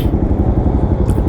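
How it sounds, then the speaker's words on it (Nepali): A motorcycle engine runs steadily and loud throughout a short ride on a borrowed bike, with a low, even rumble that never lets up. "आज चाहिँ मैले दाइको बाइक लिएर हिँडिसकेँ"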